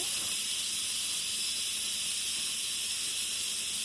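Semolina roasting in ghee in a pan on the stove gives a steady, soft sizzling hiss that runs evenly throughout without pause or talk.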